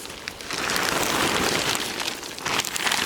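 Steady rain falling on a surface on a rainy day, a dense continuous hiss of drops with a few louder swells, no voices.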